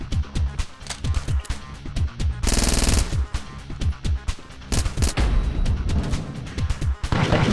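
Gunfire in the video game Redie: loud, close bursts of rapid shots, a sustained barrage mid-way and more volleys after, with no talking over them.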